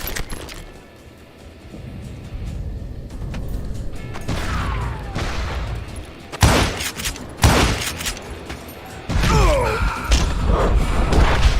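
An enemy firing shots in a video game, a few loud separate blasts with thuds and impacts spread among rumbling effects, quieter at first and growing louder toward the end.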